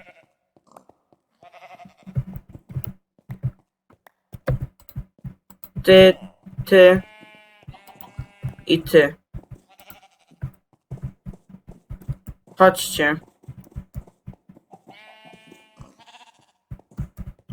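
Several sheep in Minecraft bleat in short bursts, some loud and close, mixed with someone speaking intermittently between them.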